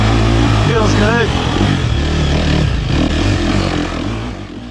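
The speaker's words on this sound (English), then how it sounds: "riding the dirt bike feels good" A dirt bike engine runs loud and close while being ridden, a steady buzzing drone with a brief rev rising partway through, fading slightly toward the end.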